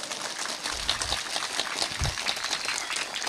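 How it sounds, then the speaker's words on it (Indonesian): Audience applause at an Islamic sermon gathering: a dense, steady crackle of many hands clapping together for about three seconds, with no talk over it. "tepuk tangan sing banter"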